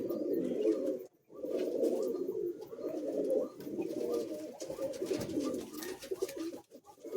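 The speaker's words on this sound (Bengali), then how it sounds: "জামুনি পায়রা" Soft, throaty cooing of jamuni pigeons repeats steadily throughout, close by, with a short pause near the start and light rustling in the background.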